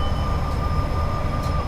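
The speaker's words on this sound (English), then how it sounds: "I think the 47 is the best diesel loco in the game." Class 47 diesel locomotive in a train simulator game on the West Coast Main Line over Shap, giving a steady, loud, continuous engine rumble and hum with a faint high whine.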